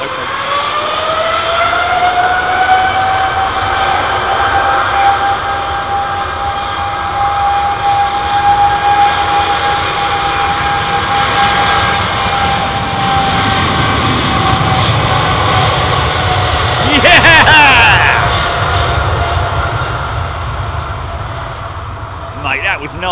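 A heavy jet airliner at Heathrow, bound for JFK, roars loudly and close with a sustained engine whine that holds steady, then surges briefly near the end, while people talk over it.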